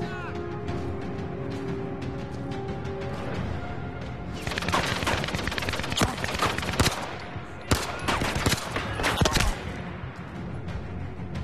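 Rapid automatic gunfire in the Zero Caliber 2 VR shooter game, starting midway through as bursts of loud, crackling shots over steady background noise, some close and punchy, others more distant.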